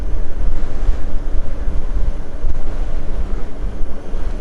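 Strong gusty wind buffets the microphone in a continuous loud rumble while driving a Sherman vehicle in the mountains, with no talking.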